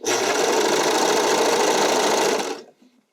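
A sewing machine running fast while stitching figure skating skirt fabric, a loud, close continuous drone that holds steady and then winds down and stops near the end.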